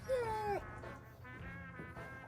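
A puppy whimpers outside: a clear, high, falling whine at the start, then softer broken whimpers over a low steady hum.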